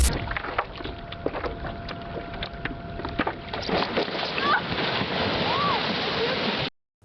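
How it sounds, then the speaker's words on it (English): A paddleboarder is knocked into the water among waves, with continuous rushing, splashing water and wind buffeting the microphone, plus a few faint chirps near the end before an abrupt cutoff. "a paddleboarder was suddenly knocked into the water, vanishing beneath the splashing waves"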